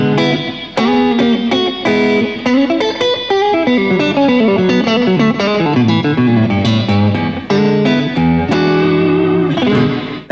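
A Fender Brad Paisley signature Esquire electric guitar played through a hidden neck pickup beneath the pickguard, with bright picked runs and chords, some effects coloring, and steady loud playing throughout.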